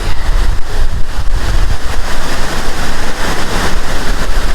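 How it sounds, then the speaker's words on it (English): Multnomah Falls, a tall waterfall with many tourists around, roaring as a loud, steady broadband rush of falling water and wind buffeting the microphone, continuous throughout. "So this is Multnomah Waterfall."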